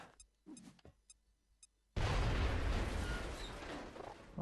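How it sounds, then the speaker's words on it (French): A grenade explodes in the video game XCOM Enemy Within: after a few faint clicks and taps, a sudden loud, close blast arrives and leaves a rumbling roar that holds for a couple of seconds. "Les grenades ont fait leur effet."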